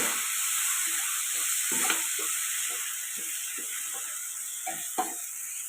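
Okra curry with tamarind fries in a hot pan, a steady close sizzle and hiss broken by scraping stirs and occasional pops, with no talking.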